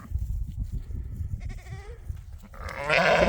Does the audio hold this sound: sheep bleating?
yes